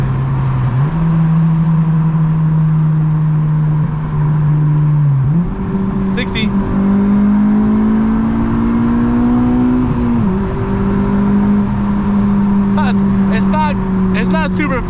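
An 8th-generation Honda Civic Si, flashed with a Hondata FlashPro, pulls hard while driving, its engine rising in pitch through the gears with short drops at shifts, loud and close, steady road noise throughout.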